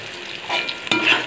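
Slit green chillies sizzle and fry in a hot pan for chirer pulao, with a steady crackle, a sharp stir or clatter near the middle, and louder spitting afterwards; no talking.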